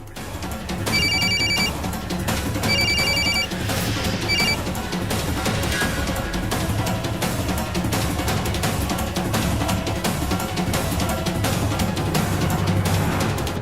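A telephone rings with an incoming call, two electronic bell bursts near the start over a dense, continuous bed of background music and room noise.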